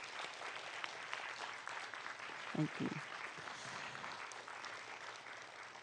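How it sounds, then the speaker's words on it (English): Quiet audience applause at a university open-day cyber security panel makes a soft, steady wash of clapping, heard from some distance, while a voice briefly says thanks. "Please give them a round of applause."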